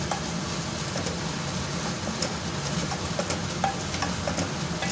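Chicken chilli stirred in a hot pan, a steady close sizzle and hiss throughout, with small clicks of the utensil against the pan and no voices.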